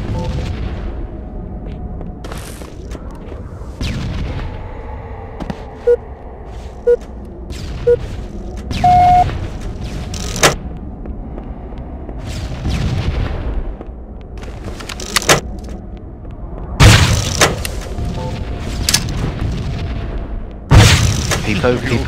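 Video game gunfire and explosions, a series of sharp booms and shots scattered irregularly, some loud and close, mixed with people talking over the action.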